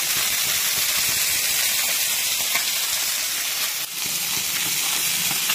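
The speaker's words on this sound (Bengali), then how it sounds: "আর এগুলো মাছগুলো প্রায় ভাজা হয়ে যাচ্ছে" Fish frying in a small amount of oil for a low-oil fish curry: a steady, loud, close sizzling hiss that carries on without a break, with no talking.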